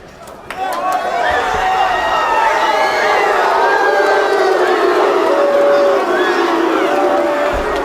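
A large arena crowd at an MMA fight cheers and shouts at length, loud and sustained, with whoops rising above a dense wall of voices after a quieter opening moment.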